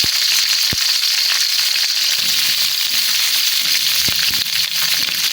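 Chopped onion, cinnamon, cardamom and green chilies frying in hot soybean oil for Puran Dhaka beef tehari, a loud, steady, dense sizzle with a few sharp crackles and pops.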